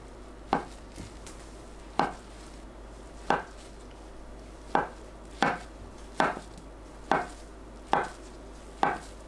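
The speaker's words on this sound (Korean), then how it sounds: "두부를 가로 1cm, 세로 1cm 크기로 깍둑 썰어주세요" A knife dices thawed, squeezed tofu into 1 cm cubes on a cutting board: eight sharp, evenly spaced chops, roughly one every second, close and crisp over quiet room hum.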